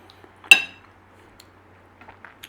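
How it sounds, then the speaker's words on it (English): A butter knife strikes a dish or pan once with a bright, ringing metallic clink near the start, followed by a few faint, scattered taps in an otherwise quiet kitchen while a skillet of creamy garlic beef and mushrooms is being made. "Butter knife."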